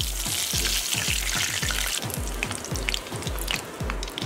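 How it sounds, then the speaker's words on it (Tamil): Breadcrumb-coated fish fingers fry in hot oil with a loud, dense crackling sizzle, accompanied by a regular series of low thumps about every quarter second throughout. "இதே போல் பாக்கி எல்லாத்தையும் ஃப்ரை பண்ணி எடுத்துடலாம்."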